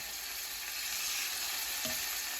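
Pieces of liver fry in a hot pan for a festive liver pâté, a steady close hiss of sizzling oil with one brief knock near the end, moderately quiet and without voices.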